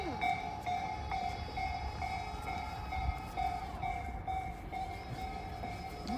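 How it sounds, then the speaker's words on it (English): A train rolls steadily past a rail yard on a Tokyo-area walk between Narimasu and Hikari-Gaoka, a continuous close rumble with sustained tonal hum and wheel noise throughout, no talk. "Oh, another train, Kaichan."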